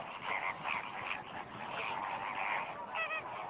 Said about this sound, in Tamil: இங்கு வரும் பறவைகளில் நம் கவனத்தை அதிகம் ஈர்ப்பது பூநாரைகள்தான்.